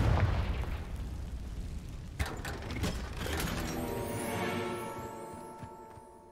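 Confringo blasting spell explodes in Hogwarts Legacy: a couple of sharp bursts, then a ringing, shimmering tonal tail that fades over the following seconds, with no talk.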